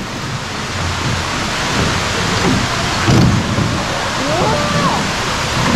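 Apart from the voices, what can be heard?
waterfall rushing nearby in Takachiho, Miyazaki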